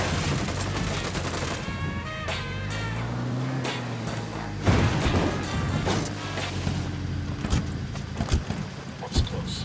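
Gunfire from the video game Ghost Recon Wildlands rattles in dense, loud bursts alongside voices and background game sounds.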